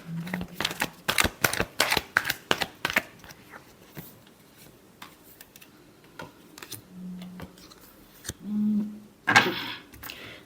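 Tarot cards are shuffled by hand up close, a quick run of crisp riffling clicks and snaps followed by scattered soft taps and one final rustling burst, with no talking.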